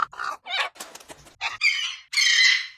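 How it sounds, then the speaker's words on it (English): A bird sound effect of a chicken plays in a quick series of clucks and squawks, each burst separate and close, ending in a longer, louder crowing cry. "Let's get some bird sounds."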